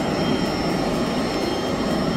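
Steady aircraft engine roar at Tamale Airport in Ghana, a loud, even, continuous drone with no breaks.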